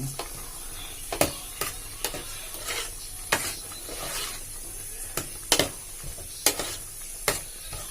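A spoon stirs northeast-style pork pasta frying in a pan, with steady sizzling and irregular scraping clicks as the food is moved around.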